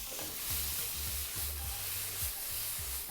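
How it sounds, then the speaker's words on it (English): Onions and vegetables stir-frying over high heat for a vegan meal, with a steady sizzle and rhythmic scraping of a utensil stirring the pan, close up. "we're doing this on a high heat because we're stir frying today"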